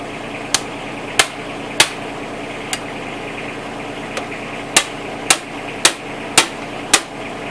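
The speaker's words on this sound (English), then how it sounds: "Might be better if I hammer down here" Sharp metallic hammer strikes on the tire rim of a 1954 Gravely L tractor, about ten blows spaced irregularly, loud and close against a low background hum.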